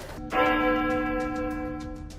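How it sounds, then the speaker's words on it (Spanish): A single church bell strikes once, loud and close, its tone hanging and slowly fading over a couple of seconds with no voices. "De repente se escuchó la campana de una iglesia."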